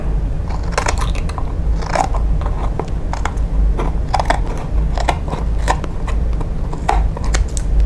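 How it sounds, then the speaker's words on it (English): Repeated crisp snips of short scissors cutting through paper up to chipboard, several irregular cuts in a row over a low background hum, close by. "longer scissors would have given me a cleaner, straighter edge"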